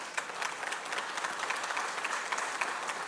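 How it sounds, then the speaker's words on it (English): An audience at a steel building-technology event applauds steadily, with sustained, fairly even clapping from a crowd heard at moderate distance and no voices on top. "So how about we give a big round of applause to the team at Howick."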